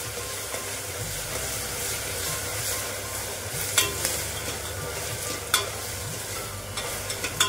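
Onions sizzle and fry steadily in a hot pan, with occasional scraping stirs and clinks from a spatula, no voices.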